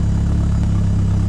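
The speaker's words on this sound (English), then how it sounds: "now give it a couple revs" A Merkur engine runs on a dyno with a steady, loud, low mechanical drone that holds an even pitch throughout a short stretch.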